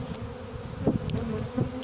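A close, continuous hum of honeybees swirls around a swarm being hived into a cardboard box, with single bees buzzing loudly past now and then.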